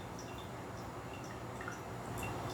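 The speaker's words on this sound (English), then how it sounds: "You can see it gets individual water droplets versus a very thin stream all the way down" Gyokuro green tea falling from a pot in separate droplets: faint, scattered high drips and tiny splashes over a steady low background hiss, quiet and close.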